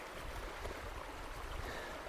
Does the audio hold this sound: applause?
no